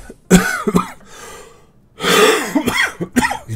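A man coughs in harsh, wet bursts, a pair of hacks, then a pause before a longer spasm of several rapid coughs with throat-clearing, close and loud with no talk.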